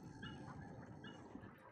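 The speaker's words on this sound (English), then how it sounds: "Why do I hear, like, a robotic puppy?" A robotic puppy in the sci-fi game Soma gives two faint, short whimpering whines over a low droning background hum, quiet and distant.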